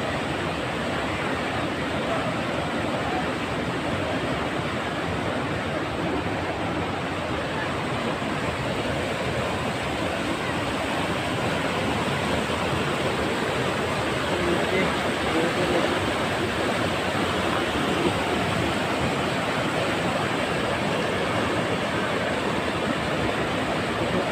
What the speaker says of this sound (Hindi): पानी किस तरह से बाहर आया है